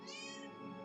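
A cat gives a single close, clear meow that rises and then slowly falls, heard alone without talking.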